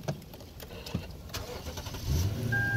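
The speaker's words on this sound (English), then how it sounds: "Car is start even if battery died in the key." A Lexus Toyota car's engine cranks and catches via push-button start, a short rising turnover settling into a low idle at the end, with brief background voice sounds before it.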